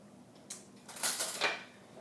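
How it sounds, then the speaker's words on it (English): A fresh spoon is picked up in a home kitchen, a few faint close metallic clinks and rattles of cutlery over about a second, with no speech. "I'm going to get a fresh spoon here"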